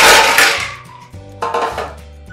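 Ice is tipped into the lower metal cooking vessel of a kitchen setup, giving a loud opening clatter followed by two further sharp clinks and ringing metallic resonance, close by and with no talk.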